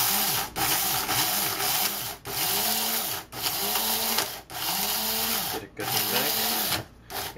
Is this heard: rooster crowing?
no